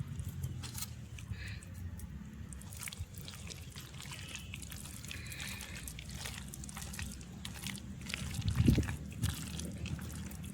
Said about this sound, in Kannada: ಇನ್ನೊಂದು ಸ್ವಲ್ಪ ಹಾಕ್ಬೇಕು ನೀರು.